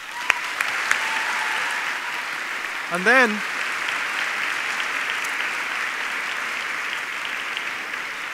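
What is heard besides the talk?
audience clapping for previous winners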